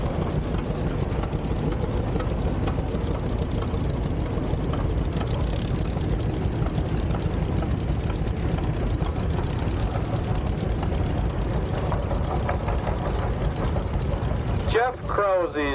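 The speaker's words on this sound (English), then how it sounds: "Jill Krause driving a 1948 John Deere Model D, 38 horsepower." A 1948 John Deere Model D tractor, 38 horsepower, runs at a tractor show with a steady, low, thumping engine drone. It is loud and constant throughout, with a brief voice breaking in at the very end.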